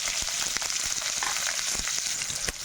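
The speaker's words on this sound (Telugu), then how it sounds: "ఇప్పుడు మనం ఉల్లిపాయ పచ్చిమిర్చి వేసుకుందాము." Chopped onion and green chilies sizzle steadily in about three tablespoons of hot oil, a dense close frying hiss with faint stirring ticks and no talk.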